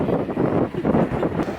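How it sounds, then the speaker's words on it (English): Strong wind buffets the microphone in a continuous loud rumbling roar with gusty swells, at a beach in Byron Bay. "It's so windy"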